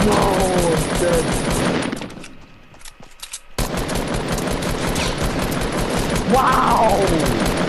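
Rapid automatic gunfire in the video game Fortnite rattles loudly and almost continuously. It drops out for about a second and a half midway, then resumes just as dense. A voice is faintly audible beneath it.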